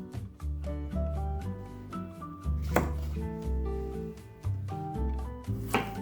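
Two zucchini are chopped with a knife on a board, giving a steady series of close, crisp cuts set over soft background music.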